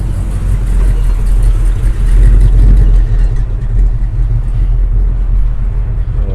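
A Chevrolet Camaro cruising a street during a New Year's Eve car cruise gives a loud, deep engine rumble close by, swelling and settling as it rolls past at low speed.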